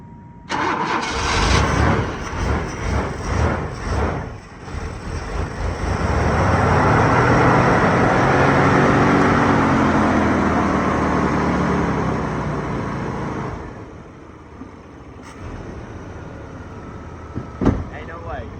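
An old truck with a dragging exhaust cranks repeatedly, then catches into a loud rough rumbling run that holds for several seconds before dying back to quiet, with a few sharp clanks near the end and voices nearby.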